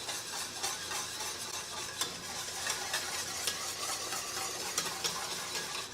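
A fudge mixture of melted butter and sugar bubbles and sizzles steadily in a pot, with a continuous scraping stir and small soft clicks running through it, close and alone.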